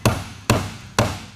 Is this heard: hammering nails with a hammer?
yes